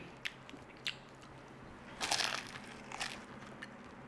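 A crunchy, flaky British pasty is bitten into up close, a few small crackles leading to a louder crisp crunch in the middle, followed by softer crumbly chewing.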